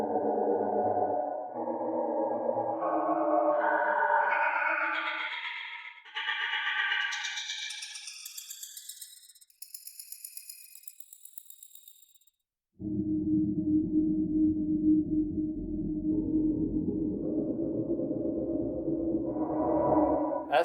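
The TF Tremolo sampled tremolo Kontakt instrument from Acousmatic Sounds plays a rising run of pulsing, wavering notes, then a dense sustained chord swells in, loud and steady with no voices.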